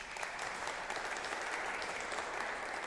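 At a church annual meeting a room full of people applauds warmly, the clapping thick and sustained at a steady volume from start to finish.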